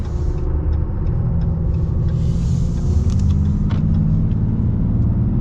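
A 2024 Ram Rebel pickup truck driving, heard from inside the cab as a steady, fairly loud low engine and road rumble that runs continuously with no talk.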